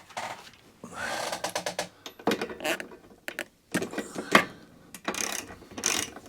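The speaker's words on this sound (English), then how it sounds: "That can go into there. That's good, and we'll tighten that up." A ratchet wrench tightens a brand-new spark plug into the cylinder head of a Mountfield HP45 lawnmower, giving rapid clicking bursts in several short runs separated by pauses, close and fairly loud, with no talking.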